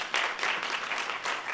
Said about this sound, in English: Let's limit our applause